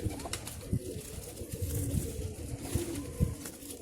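Low, rolling coos from pigeons nearby, with a few sharper bursts mixed into the soft throaty calls.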